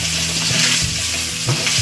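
A hilsa fish head fries in a hot pan, giving a steady, loud sizzle with occasional stirring scrapes throughout, and no talk.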